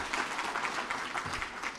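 A crowd of university freshers at an orientation session claps together in a dense, vigorous, unbroken burst of applause, steady and fairly loud throughout.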